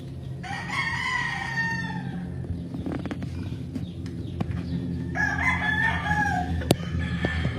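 A young rooster crows twice, loud and close, with a pause between the calls over a background of farmyard rustling.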